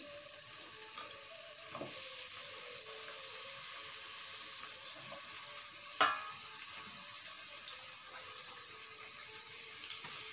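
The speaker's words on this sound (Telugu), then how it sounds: "వేడెక్కిన తర్వాత మనం ఆనియన్స్ వేసుకుందామండి" Onions frying in hot oil make a faint, low sizzle with scattered soft taps and one sharper clink, quiet and steady in the background.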